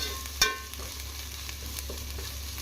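Coriander and mint leaves frying in oil for a vegetable biryani, with a soft, steady sizzle and an occasional clink of a utensil, quiet and close.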